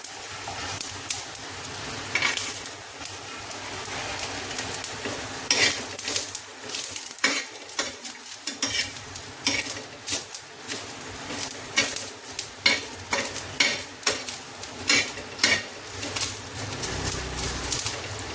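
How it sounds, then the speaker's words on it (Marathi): Ginger and garlic frying with masala on a hot tava, stirred with a metal spatula that scrapes and taps the pan again and again over a steady sizzle, close and fairly loud. "त्याच्यामध्ये आपण अद्रक लसूण ते पण टाकून देऊ।"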